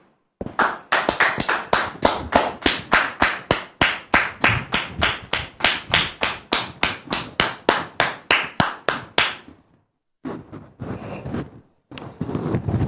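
A podcast audience welcomes a woman guest with rhythmic clapping in unison: about three dozen sharp, evenly spaced claps at a steady beat, a brief pause, then a few more scattered bursts.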